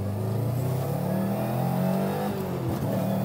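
A Subaru Levorg engine revs hard and steadily on a dyno during a flat-foot shift test, a loud, continuous close roar held at full throttle, with a slight dip and change in tone near the end.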